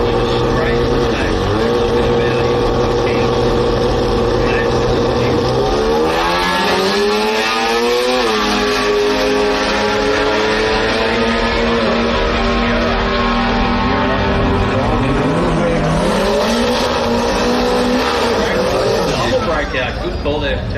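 Drag racing cars, including a Sierra, thunder down the drag strip, engines roaring loud and steady with pitch sweeping upward as they accelerate and a second surge near the end, while a commentator talks throughout.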